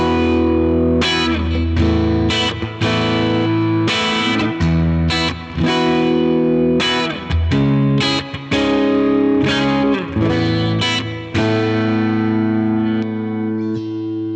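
Kiesel Jason Becker Numbers electric guitar on the clean channel with the neck pickup, through a Super Reverb amp with slight reverb, playing sustained chords and picked notes loudly with no talking.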